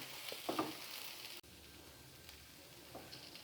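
Tamil-style capsicum varuval in a pan, the bell pepper frying with masala and stirred: a soft, steady sizzle with a few quick scraping strokes near the start, fairly quiet and close, no talking.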